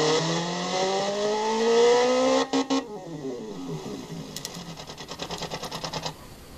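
Modified car exhaust heard through playback, a raspy buzzing engine note that rises as it revs, then breaks into a quick run of sputtering pops and crackles, moderately loud and free of talk.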